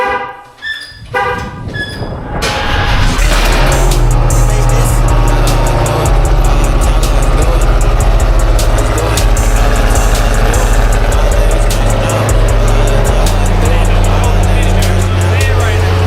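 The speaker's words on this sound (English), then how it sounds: "let me go ahead and get y'all a quick cold start real quick" A Dodge Hellcat widebody fires up from cold after a short horn-like toot and voices, then settles into a loud, deep, steady idle rumble that continues throughout.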